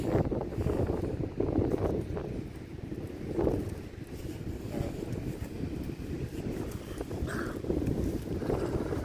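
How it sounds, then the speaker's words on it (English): Strong wind buffets the microphone outdoors, producing steady low rumbling gusts that swell and ease over several seconds, with no talking. "That wind will be too loud that way."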